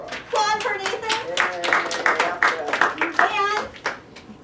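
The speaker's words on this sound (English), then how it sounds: "Applause for Nathan." Brief audience applause at a workshop event in Chicago, a modest burst of hand clapping from a small group, close and lively, mixed with overlapping voices and children's chatter.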